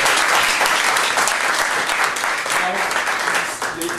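An audience applauds athletes at a triathlon club awards ceremony, loud, dense and steady clapping that fills the whole stretch, with some voices faintly mixed in.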